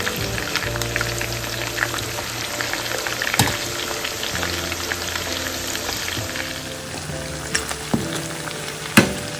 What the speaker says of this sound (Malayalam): ഒന്നങ്ങോട്ട് ഇളക്കി കൊടുക്കട്ടെ. ആ മസാല എല്ലാം ഒന്ന് ഫ്രൈ ചെയ്തോട്ടെ.